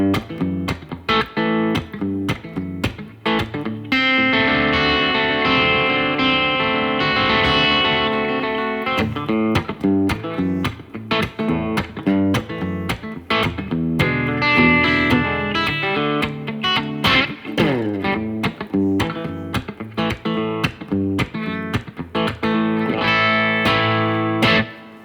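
Electric guitar played through a Yamaha THR10C amp on its mini setting with a touch of reverb, picking rockabilly licks in a steady run of plucked notes and chords, close and loud with no talking.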